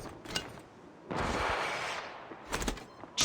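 Gunfire in the Apex Legends Mobile video game comes as short bursts of shots, with a longer sustained volley in the middle and further quick bursts near the end, moderately loud.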